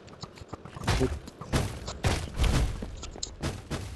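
Repeated gunfire in Minecraft comes as a series of sharp, close bursts, about five in a row at an uneven pace, with faint game noise between shots.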